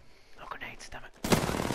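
Gunfire in the video game Armed & Dangerous erupts as a sudden loud, dense burst after a stretch of quiet, hushed sounds, continuing as sustained shooting to the end.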